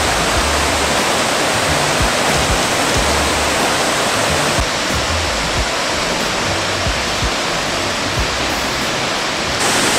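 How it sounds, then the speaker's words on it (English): Bermejo Waterfalls in Santa Fe, Panama roar loudly and continuously, a dense, even rush of falling water with no break and no voices. "This is the waterfall."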